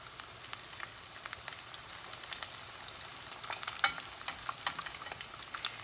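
Shrimp egg rolls frying in hot oil, a steady close crackling sizzle with dense bubbling pops that grow busier toward the end, with no voices.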